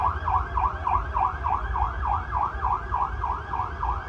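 An air raid siren sounds during a citywide mock drill in Hyderabad, wailing up and down in a fast, even rhythm. It stays loud and continuous over a low background rumble.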